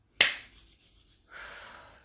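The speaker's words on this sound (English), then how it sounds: "Clap a couple times." One sharp, close hand clap during a guided grounding exercise, followed by a quiet stretch and then soft rubbing or breathy noise.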